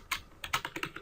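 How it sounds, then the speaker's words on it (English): Quick keystrokes on a computer keyboard, about seven close, crisp clicks in an uneven burst lasting roughly a second, with no talking. "my typing today doesn't seem to be working out for me"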